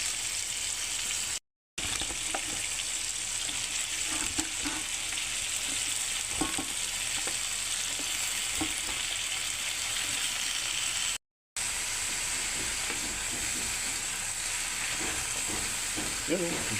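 Cabbage sautés in a pan with a constant crackling sizzle and occasional stirring clicks and scrapes, heard close for a long stretch with two short gaps.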